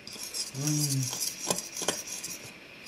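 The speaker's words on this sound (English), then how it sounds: "Stir that up in there." A utensil stirs blueberry cobbler mixture in a bowl, scraping and clinking against the sides with a few sharp knocks. A brief voice cuts in partway through.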